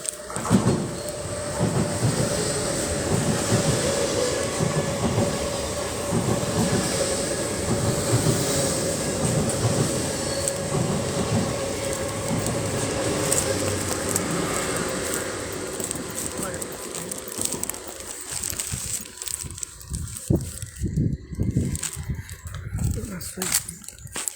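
Trains rumble and clatter steadily past at a station, loud and continuous for most of the clip before thinning into sparser clacks and noise toward the end.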